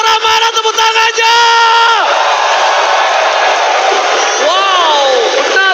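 A large esports crowd at Istora roars and whoops loudly and continuously during an ONIC vs AP Bren playoff final, filling a big indoor arena with sustained cheering.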